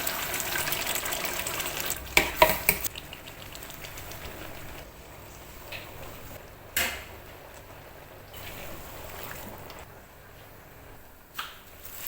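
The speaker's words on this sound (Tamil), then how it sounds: "நம்ம பக்கத்தில் வடிதட்டு வச்சுருக்கிறேன், அதில் வடிகட்டிடுறேன்." Boiled rice water for a large batch of chicken biryani pours through a strainer, a steady gushing flow with a louder splash burst early and a few brief later surges.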